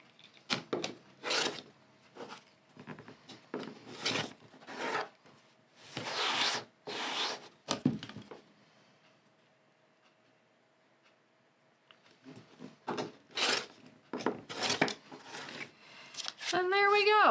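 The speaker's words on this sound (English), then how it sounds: "Now it's time to trim our block and we want a 5-inch unfinished block." An appliqué quilt block is trimmed down to a 5-inch unfinished size. Close, brisk bursts of scraping and cutting are broken by a quiet pause midway.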